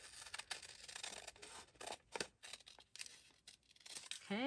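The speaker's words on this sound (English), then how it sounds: "And we'll just use the scissors here." Scissors snipping through paper, close and quiet, with irregular short cuts and rustling as magazine or book pages are handled.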